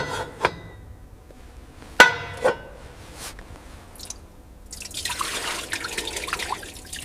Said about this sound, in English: We insert the nozzle and begin the flow of clean diesel.